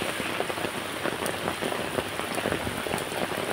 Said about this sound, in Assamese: বৰষুণত তিতি বুৰি দেখিছেনে